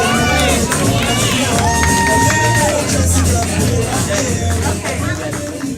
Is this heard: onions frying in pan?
no